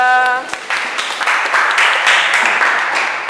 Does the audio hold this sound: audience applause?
yes